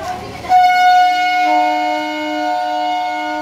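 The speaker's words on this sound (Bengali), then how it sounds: "এই হচ্ছে আপ ট্রেন" A passing up train near a temple blasts its horn suddenly and close, a loud sustained tonal honk that holds for about three seconds and slowly changes pitch as it goes by.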